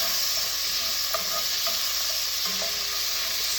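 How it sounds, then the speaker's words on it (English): Beef cubes sear in a soup pot with a loud, steady sizzle running throughout, a few soft clinks of a utensil against the pot scattered over it, no talking. "So we're just searing this for about a minute and a half"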